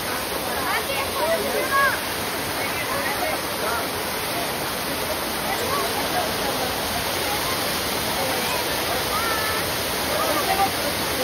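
Steady, loud roar of the Tungareshwar waterfall near Vasai, India, fills the whole clip, a dense broadband rush of falling water with faint voices buried beneath it.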